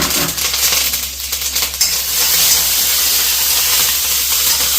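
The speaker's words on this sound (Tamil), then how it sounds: "கடுகு நல்லா பொரிய ஆரம்பிச்சிருக்கு. நிலக்கடலையை சேர்த்துட்டு காஞ்ச மிளகாயும் கருவேப்பிலையும் சேர்த்துடுறோம்." Mustard seeds and peanuts fry in hot tempering oil for a South Indian dish, a loud, close hiss and crackle with crisp pops and rattles, strongest early then settling into steady sizzling, no voices.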